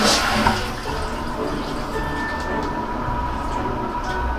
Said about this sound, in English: So far, you can tell that the toilet is running.